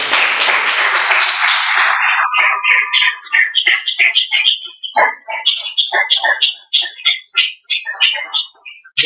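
Clapping from a church congregation opens as a dense, loud roar, then thins into scattered claps and taps that trail off over several seconds.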